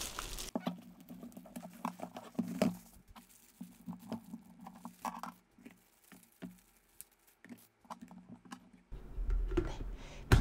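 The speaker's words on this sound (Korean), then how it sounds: "비닐을 벗겨볼게요" Plastic vinyl wrapping peeled off a 1.8-liter aroma humidifier, producing irregular crinkling and rustling bursts with short pauses, close and moderately quiet.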